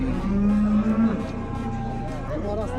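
A cow gives one long, loud, close moo at the Yangi Qo'rg'on livestock market, with market chatter and noise running underneath.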